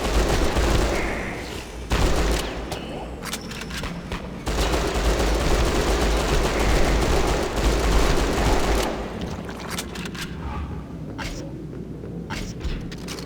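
Sustained machine gun fire in the Hunter: The Reckoning video game, a dense, loud continuous rattle of automatic shots in a sewer level, briefly easing and resuming across the clip.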